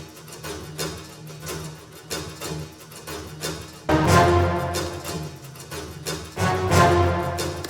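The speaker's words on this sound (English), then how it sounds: "Collegno is really just strings, except they're smacking on it in a really unusual way." Strings played col legno, the players striking with the wood of the bow in a percussive looping pattern: repeated dry clicking hits in a steady rhythm, growing denser and louder halfway through, with no voices.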